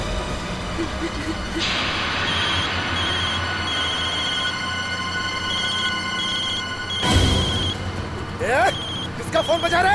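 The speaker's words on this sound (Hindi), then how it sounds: "किसका फोन बजा?" An electronic telephone rings with a steady repeating tone over low background rumble, set in a tense hostage scene at a wedding in a Hindi crime drama; a loud thump follows and voices start talking near the end.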